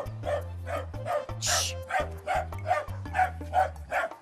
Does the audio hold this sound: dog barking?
yes